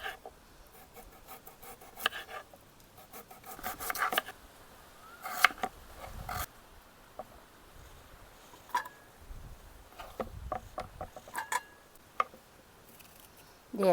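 Potatoes being cut at the side with a knife, giving soft scraping and slicing strokes with a few sharper clicks, close and quiet against a faint background, in an irregular rhythm.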